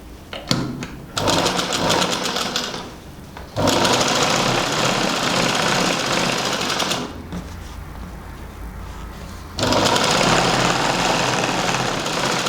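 Sewing machine stitching a double-folded hem along the bottom of a baby frock's lining, running in three long steady bursts separated by short pauses, close and loud with no talking.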